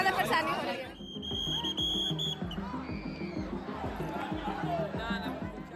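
A dense crowd of pilgrims heading to the Kumbh at a packed railway station, with constant overlapping chatter and hubbub close by and people talking throughout.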